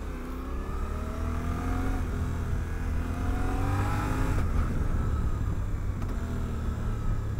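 A 2023 Suzuki V-Strom 800DE motorcycle engine runs steadily and close by, its smooth droning hum rising slightly in pitch as it revs a little.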